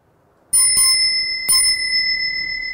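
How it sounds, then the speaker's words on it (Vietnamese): A Buddhist khánh chime is struck twice in quick succession, each sharp metallic ring leaving a long bright sustain. It is loud, close and heard on its own with no talking. "3 tiếng khánh thì chúng ta đánh thế này ạ"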